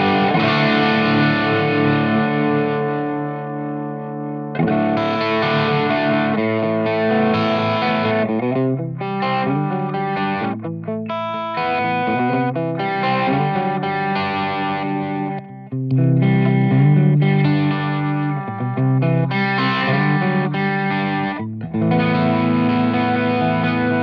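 Electric guitar run through LPD Sixty8 and ZVex Box of Rock overdrive pedals, played loud and distorted with chords and riffs in an unbroken passage of about 24 seconds, with no talking.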